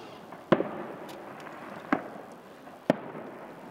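Three sharp, distant fireworks bangs from the 2024 Aioi Peron festival eve display in Japan, at irregular intervals, each with a short crackling tail, over a steady low background rumble.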